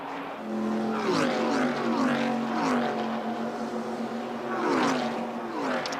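Stock race car number 3, driven by Dale Earnhardt, accelerates along the back straightaway of an oval track, its engine whining through rising and falling gear-change sweeps at moderate distance, loud and continuous.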